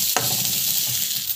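Gram (kadalai) sautéing in a pan for a simple breakfast dish, a steady bright sizzle with a sharp stir or scrape near the start, continuous and close with no talking.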